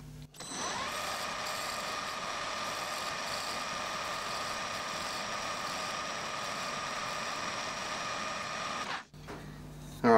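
A wood lathe spins stock held in a wooden chuck while turning parts for a mid-century modern rocket lamp, a steady loud machine whine with a tonal hum lasting nine seconds before it stops, followed by faint handling noise.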